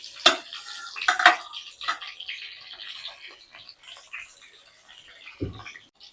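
Slit green chilies dropped into hot oil with cumin seeds, spluttering and sizzling close by in bursts that settle into a softer fry, with a few clinks of a utensil.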